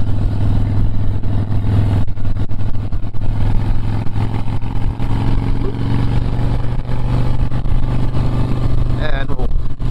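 A 2005 Harley-Davidson Softail Springer Classic rumbles along on a ride, its low, steady engine drone continuous and close throughout, with wind noise over it.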